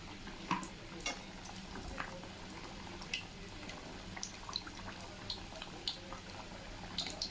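Samosas deep frying in oil in a kadhai, a second batch, give a steady low bubbling hiss with faint crackles and occasional light drips or stirring taps, fairly quiet throughout.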